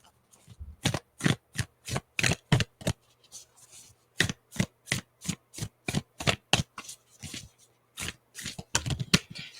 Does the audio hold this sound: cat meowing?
no